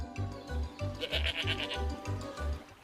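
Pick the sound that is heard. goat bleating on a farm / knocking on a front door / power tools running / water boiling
goat bleating on a farm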